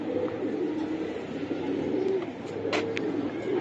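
Giribaj pigeons coo in a low, continuous murmur close by. A few brief sharper bird sounds break in near the end.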